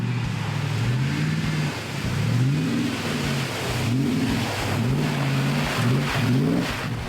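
A supercharged 454 Chevy K5 Blazer revs off-road in repeated throttle blips, the engine pitch rising and falling in quick surges, close and loud, with no talk over it.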